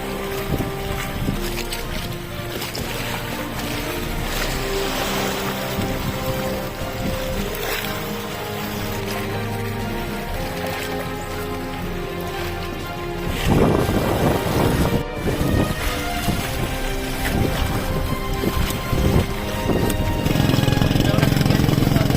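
A boat motor drones steadily while towing a raft at sea, with wind buffeting the microphone and water sloshing; the engine noise grows louder and rougher in the last third.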